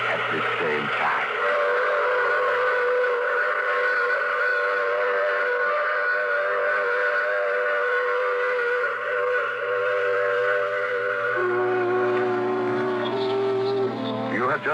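A train whistle in an old radio drama holds a long, loud, sustained chord over rumbling train noise, lasting many seconds before shifting pitch near the end.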